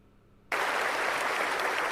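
Dense crowd applause bursts in abruptly after a quiet half second and then holds steady and loud, many hands clapping at once with no voices standing out; flags are being waved in the crowd.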